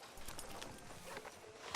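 Horse hooves clip-clopping in the Red Dead Redemption 2 video game, a quiet, steady walking rhythm of hoof knocks on the ground with faint background ambience.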